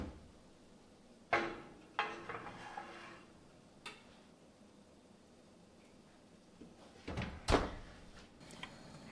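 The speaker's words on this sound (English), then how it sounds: "we are going to put these in the oven" An oven door and a metal muffin pan in a home kitchen: scattered clanks and thumps, with a sharp bang near the middle, a couple of softer knocks, then a louder cluster of clatter and a door shutting near the end, close by with no talking.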